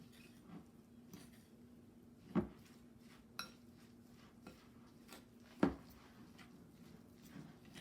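Salmon ball mixture is stirred in a bowl, with quiet scraping and a few sharp clinks of a utensil striking the bowl at irregular intervals over a faint steady hum.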